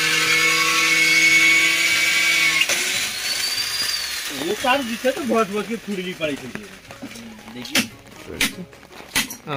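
An electric drill whines steadily for a few seconds, then stops as someone talks in a village yard, with a few sharp knocks near the end.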